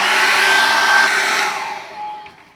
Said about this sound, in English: Dry that off with the air dryer really well now.